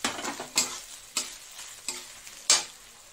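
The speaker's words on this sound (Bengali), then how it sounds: "নারকেলটা আমার ভাজা ভাজা হয়ে গেছে" Coconut fries and is stirred in a pan, where fish heads were fried earlier. Soft sizzling runs throughout, broken by four sharp scraping stirs spaced roughly half a second apart, close and moderately loud, with no talking.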